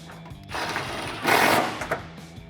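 A socket ratchet tightens a headlight mounting stud while a 2008-2014 Raxiom dual LED halo projector headlight is installed, giving close, busy mechanical ratcheting that swells into a louder burst midway.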